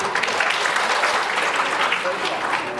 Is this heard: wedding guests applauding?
yes